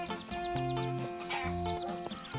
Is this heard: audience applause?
no